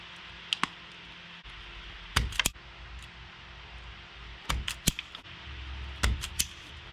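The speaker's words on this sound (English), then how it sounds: "I'm just gonna cut a little piece right here so I can put it to power to the fuse" Sharp, sparse snips and clicks of cutters biting through a car wire while fitting a fuse in a Mustang 5.0, scattered quiet cuts against a faint background hum.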